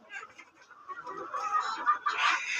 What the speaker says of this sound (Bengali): এই যে এগুলো সব আমার দেশি মুরগি, দেখছেন।